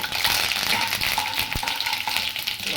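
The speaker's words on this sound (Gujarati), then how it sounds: "હવે રાઈ ફૂટી ગઈ છે આપણે તલને નાખવાના છે એટલે તલ પણ એકદમ રીતે ફૂટી જશે" Mustard and sesame seeds spluttering in hot oil for a Gujarati tempering, a dense continuous crackle and sizzle with a sharp pop near the middle, close and steady.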